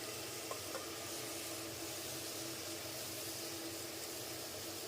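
Peeled field beans and chopped fenugreek leaves fry in a pan with a soft, steady sizzle and faint stirring, low and continuous with no talking.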